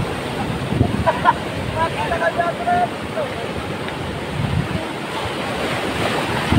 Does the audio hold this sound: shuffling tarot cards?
no